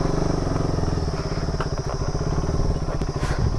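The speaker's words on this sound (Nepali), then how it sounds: "बाइक फर्काएर राखिदिन्छु" A motorcycle engine idles and putters loudly while the bike is turned around on an off-road track, a steady close rhythmic chug with a few clattering knocks, and no voices.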